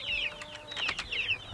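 Cornish cross meat chickens in a backyard coop cluck repeatedly in short, bright bursts, several birds overlapping close by with a steady rhythm and no talking.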